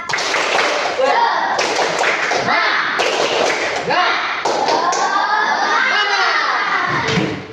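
A classroom of students in Indonesia performs the tepuk semangat clapping chant, rhythmic bursts of clapping and thumps alternating with loud group chanting voices, close and lively.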